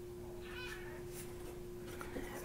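Soft, brief cat meows sound at close range, a couple of short wavering calls over a steady low background hum, with small clicks near the end.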